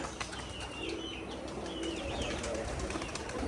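Giribaz pigeons at a pigeon farm coo softly in short, low burbling calls over a busy background of rustling and ambient noise.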